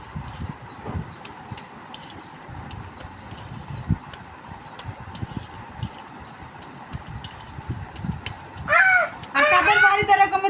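A crow caws loudly and close by at a home, with a few harsh calls near the end over background clatter and voices.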